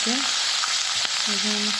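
Lentils (dal) frying in hot oil in a pan give a continuous, close, dense sizzle with no speech, and faint tonal squeaks come and go over the hiss.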